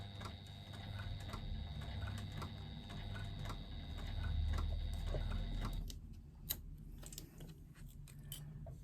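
A sewing machine runs slowly while top stitching, making a faint, steady mechanical whir with rapid repetitive ticking. It stops partway through, leaving only a few sparse clicks and taps.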